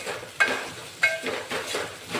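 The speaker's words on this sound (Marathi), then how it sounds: "कोथिंबीर व्यवस्थित परतून घेऊया।" Curry leaves and coriander are stirred and sautéed in a pan, with soft sizzling, a couple of sharp metallic scrapes of a spoon against the pan, and rhythmic stirring sweeps, close up and without talk.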